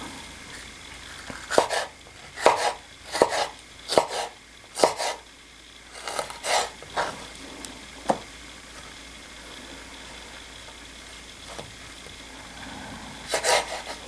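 Knife chopping vegetables such as cherry tomatoes, mushrooms, onion and asparagus on a cutting board, in bursts of sharp, close taps with pauses between groups and a few isolated chops later.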